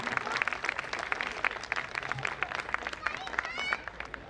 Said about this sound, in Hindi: मैं चाहता हूं कि पूरा सदन एक बार जोरदार तालियां बजाए